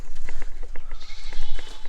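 Goats on a small farm near a chicken coop bleat in quick, repeated cries, loud and close, overlapping one another in a short busy chorus.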